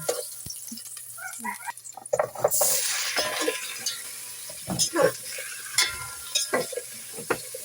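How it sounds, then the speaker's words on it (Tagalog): Ginger sautés in a hot pan for tinola with a steady sizzle and busy stirring, a burst of loud frying hiss and intermittent scrapes, with a brief voice near the start. "Ginigisa ko na ang luya"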